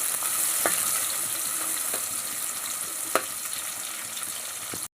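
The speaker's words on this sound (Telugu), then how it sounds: "ఉల్లిపాయలు కూడా ఫ్రై అవ్వాలా ఉంది" Onions frying in oil in a pan for a drumstick chicken curry, a steady close sizzle with a few sharp stirring clicks and one louder scrape.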